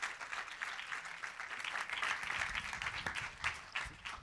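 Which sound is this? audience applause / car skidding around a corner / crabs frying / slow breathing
audience applause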